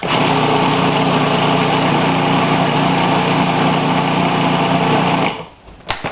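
A food processor pulses a nut mixture for a chocolate tart crust, its motor running loud and steady for several seconds before cutting off abruptly, followed by a couple of small knocks.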